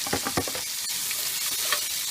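Chopped onions sizzle in a hot pan for Rogan Josh, a close, loud, unbroken hiss with a few soft clicks of movement near the start and no voices.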